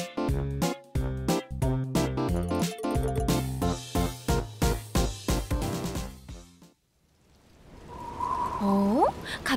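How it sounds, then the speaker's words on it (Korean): Bouncy children's song music with steady beats stops abruptly, then a rising hiss of cartoon rain and gusting wind builds with a few swooping tones. "갑자기 비가 오고 바람이 많이 부네요."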